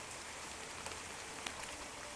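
Hail falls in a storm bordering on snow, a steady, even hiss of small pellets striking the ground, fairly soft, with a couple of slightly sharper hits.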